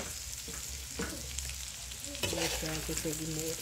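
Rice sizzles and fries in a pan for arroz carreteiro, a steady crackling hiss with brief stirring scrapes, while someone talks softly over it.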